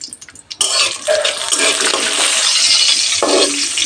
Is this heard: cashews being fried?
yes